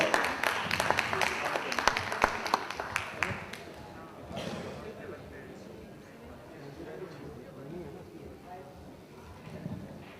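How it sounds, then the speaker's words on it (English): Audience applause in a hotel ballroom session, a dense patter of clapping for a few seconds that fades into low murmuring room noise and background chatter. "Let's give him a big round of applause."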